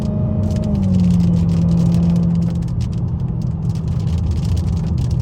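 Dodge SRT Hellcat engine rumbling close by in a steady drone, a brief higher whine and a deeper tone easing off early, with continuous road noise and no talk.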